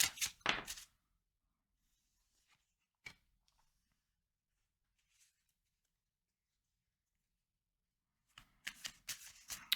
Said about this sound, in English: So let's just pull a couple cards on that.